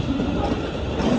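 A London Northwestern Class 350 electric train rolls past at Primrose Hill, a close, loud steady rush of wheels and carriage noise with no voices.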